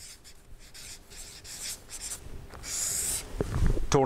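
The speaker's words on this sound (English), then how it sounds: "I'm going to write here total" Marker writing the word total on a board, a close series of short squeaky strokes and scratches, intermittent and uneven, with no talking.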